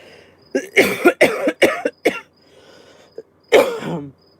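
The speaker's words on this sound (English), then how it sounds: "I want to have a coughing fit." A burst of harsh coughs in quick succession, then a pause and one more cough, close and loud.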